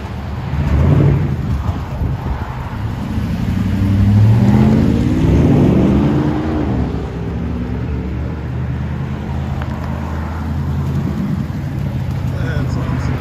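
A Dodge Challenger Scat Pack with a 6.4L HEMI V8 rumbles at idle, then rises in deep revs that swell and fall, loud and close, while voices talk over the exhaust.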